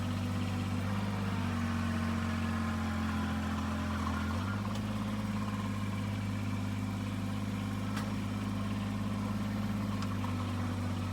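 A stuck Kubota engine labours under load, a steady low droning hum that shifts pitch abruptly partway through as it strains to pull free. It runs continuous and close, with faint clicks and no voices.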